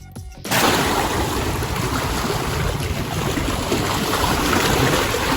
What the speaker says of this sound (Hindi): खूबसूरत पानी और लहरों की आवाज।